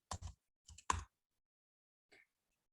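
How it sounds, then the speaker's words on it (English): A computer keyboard typed on in short bursts: a few quick, close clacks, a pause, another cluster, then one faint tap, with silence in between. "we want to type in Watson"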